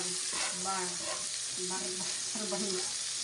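Onion and garlic sautéing in a pan with a constant close sizzle, while a voice speaks in short phrases over the frying.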